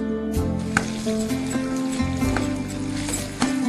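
Ginger, green chili, garlic, cinnamon and clove paste sizzles in a hot pan for a lotus stem curry. The frying hiss is steady and close, with occasional stirring scrapes.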